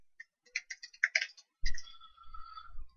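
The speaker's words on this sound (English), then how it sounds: "So if I type my address, for example" Quick bursts of close, soft key taps on a computer keyboard as a web address is entered, followed by a low rumble and a faint lingering tone, with no talking.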